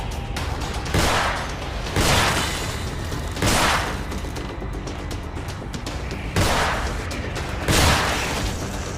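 Gunfire in the horror video game The Evil Within, with several loud broadband blasts spaced a second or two apart over a constant rumbling game background.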